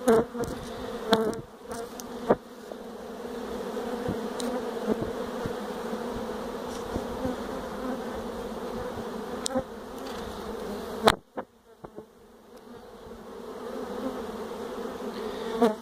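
A swarm of honeybees gathering around a beehive, with a dense, continuous buzzing drone of many insects close by and a brief lull near the end before the hum builds again.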